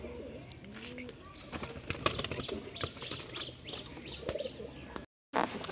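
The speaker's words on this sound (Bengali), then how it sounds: "সবুজ দোবাজ নর, বাড়ির কবুতর" A green Dobaj male domestic pigeon in a home loft gives low throaty coos among chirps and brief wing flaps, close and fairly quiet, with a short silent gap near the end.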